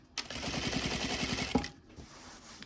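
Sewing machine stitching a trouser hem, a close, fast mechanical rattle of rapid even needle strokes running for over a second before stopping with a click, then quiet.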